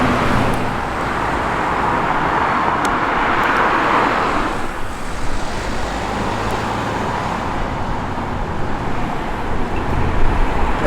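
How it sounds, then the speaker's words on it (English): Chevrolet Chevelle rolling past at an Earlwood, Sydney car show, a steady broad engine and road rumble that swells slightly near the start and holds at a moderate distance, with no voices over it. "The Chevelle."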